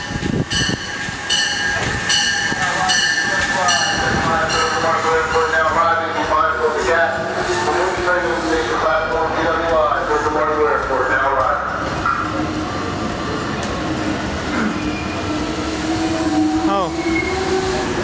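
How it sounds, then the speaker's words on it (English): A MARC commuter train pulls into a station, loud and close, with a steady rumble, rhythmic wheel clatter and rising squeals of brakes and wheels as it slows, and a voice talking briefly over the noise. "The train that we're going to be riding on, a MARC train, is now about to arrive at the station"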